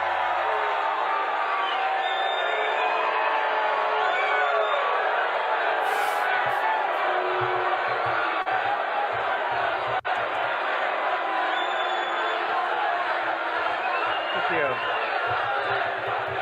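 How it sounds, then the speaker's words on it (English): A large crowd at a libertarian conference rally reacts with sustained booing mixed with cheers and whoops, a dense continuous roar of many voices filling the hall before the speech begins. "So they're booing."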